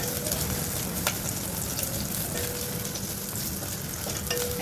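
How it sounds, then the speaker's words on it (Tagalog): Ginger sautés in a pan for lamb soup with dates and vegetables, giving a steady close sizzle broken by occasional utensil clicks. "ng luya kapag ginigisa guys"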